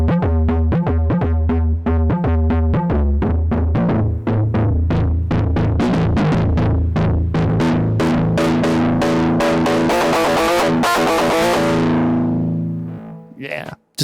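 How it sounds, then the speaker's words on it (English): An Arturia MiniFreak synthesizer with distortion plays a rhythmic sequence of gritty, buzzing notes, growing harsher and brighter before abruptly cutting out near the end. "yeah, distortion, baby"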